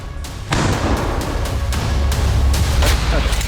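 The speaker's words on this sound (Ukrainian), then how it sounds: "Постріл!" Gunfire cracks out in a series of sharp, loud bursts over a constant rumbling background, fired at irregular intervals during a combat assault on enemy positions.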